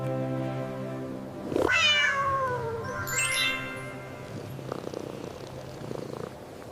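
A cat purrs steadily up close and breaks into a drawn-out rising meow, followed by softer mewing over the continuing purr.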